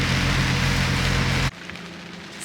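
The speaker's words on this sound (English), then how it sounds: "the rain just started getting heavier" Heavy rain pours steadily on a boat just underway after pulling up anchor, a dense loud roar of drops that cuts off abruptly partway and drops to a quieter hiss.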